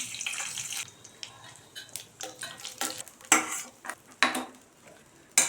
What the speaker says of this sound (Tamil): இப்போ இந்த நெய்யில் நம்ம வந்து முந்திரி வந்து வறுத்து எடுத்துக்கலாம்.